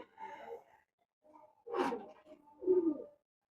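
A pair of imported golden Pakistani high-flying pigeons coo up close in three low, throaty bursts, with a brief sharp rustle in the middle and short silent gaps between calls.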